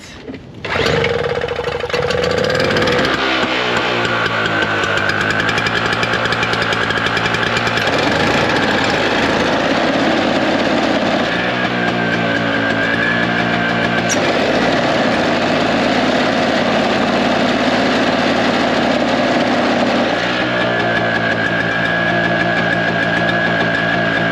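A two-stroke snow blower engine, clogged with ice and stale fuel, fires after a short cranking burst and settles into a loud, steady, buzzing run near the listener, its pitch shifting slightly as it keeps going with no talk.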